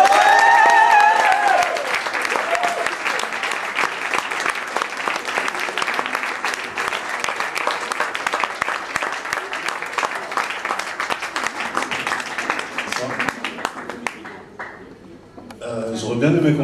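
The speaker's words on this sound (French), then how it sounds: "Une nuit d'étoiles d'applaudissements pour Souleymane Diamanka." Theatre audience at the Théâtre Gérard Philipe applauds Souleymane Diamanka, a loud, dense wash of clapping sustained for about fourteen seconds before thinning out, with a brief voice near the start.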